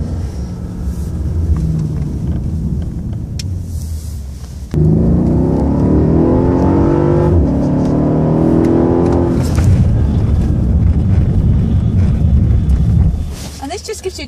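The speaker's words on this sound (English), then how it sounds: "This is a braking exercise on the icy area, so only at 30 miles an hour on the brakes." A Mercedes car braking from about 30 mph on an icy track at Mercedes World, a steady engine and road rumble that jumps louder midway, with tyre noise and wind buffeting and no clear talk.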